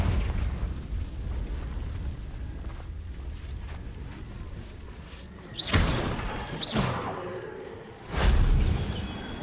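The Confringo explosion spell is cast in a video game, landing as three heavy booming bursts with whooshing tails over a low rumbling background.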